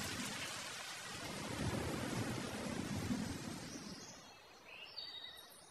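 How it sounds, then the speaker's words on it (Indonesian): A thunderstorm pours heavy steady rain with low rumbling thunder building in the middle and then easing, a dense wash of noise with no voices. "Badai sudah turun."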